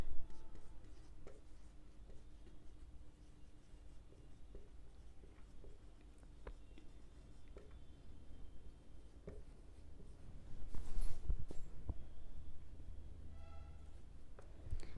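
Writing on a board while drawing up accounts in a class: a long stretch of soft scratchy strokes and light taps, close and continuous, growing slightly louder and busier near the end.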